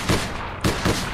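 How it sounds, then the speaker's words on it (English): Gunfire from the All Points Bulletin video game: two or three sharp, close shots in quick succession, loud and alone without talk. "Try firing now."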